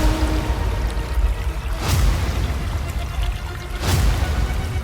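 Water pours steadily into a clay pot, a continuous splashing gush with two brief surges of louder sloshing, close and fairly loud with no talking.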